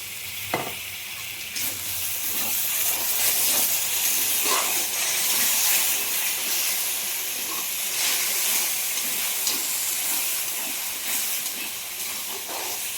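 Fish with salt and turmeric fries with banana stem in a pan after a little water is added, giving a loud, steady sizzle and hiss of steam throughout, with light stirring scrapes.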